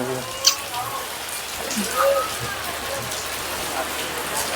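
Rain falls in a steady soft hiss at a temple in Bhavnagar, with scattered muffled voices and a few short noises in the background.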